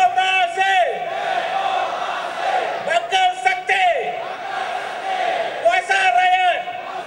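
A large crowd at a political reform rally shouts in rhythmic, chant-like waves, rising in repeated bursts of massed voices, loud and close, with a leader's amplified calls between them.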